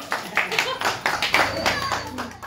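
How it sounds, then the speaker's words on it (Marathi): A small group claps hands in welcome during a traditional greeting, with a brisk, uneven run of close, bright claps and voices talking and calling over them. "या टाळ्या वाजवा, टाळ्या."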